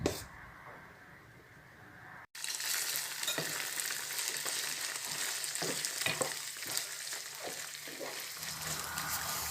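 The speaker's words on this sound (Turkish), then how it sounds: "gördüyünüz kimi mən arada içinə belə soğanı da tökürəm" Chopped onion sizzling and frying in a pan with cooked macaroni, a steady loud hiss that starts abruptly after a short quieter stretch, with occasional stirring scrapes and no talking.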